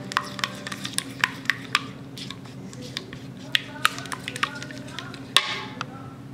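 A spoon stirs melted butter with parsley and pepper in a dish, giving a string of sharp, irregular clinks and scrapes over a low background hum.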